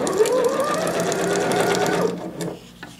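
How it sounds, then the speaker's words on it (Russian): A sewing machine runs steadily up close, stitching strips of tulle for a tutu skirt, then stops, leaving a few quieter handling sounds. "И продолжаем шить."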